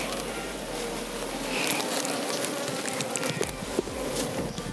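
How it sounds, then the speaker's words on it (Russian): A dense swarm of honeybees being moved into a new hive buzzes continuously nearby, a steady droning hum with individual bees flitting close to the microphone. "Кто эти пчелки? Как же их здесь много."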